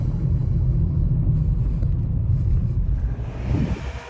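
A car rolls toward the Atal Tunnel near Manali with a steady low rumble of engine and road noise from inside the cabin, easing slightly in the last moments.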